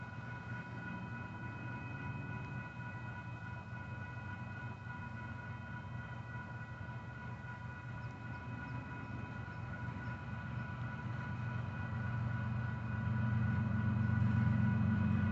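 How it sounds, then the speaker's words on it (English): A southbound Union Pacific freight train approaches, its low rumble steady at first and then swelling louder near the end, with faint sustained tonal hums riding over the roar. "we have a southbound UP train coming."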